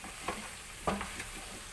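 Chicken pieces for butter chicken masala frying in a pan, a steady sizzle broken by a few quick scraping stirs as the pieces are turned, close and moderately loud with no talking.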